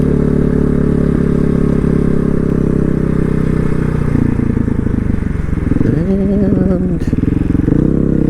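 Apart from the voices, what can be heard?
off-road motorcycle riding through gears, KTM 500 or Honda XR650L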